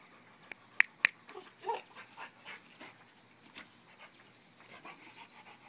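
Dog panting during a game of fetch, quick rhythmic breaths close to the microphone along with a few soft whimpers and yips, with a couple of sharp clicks near the start.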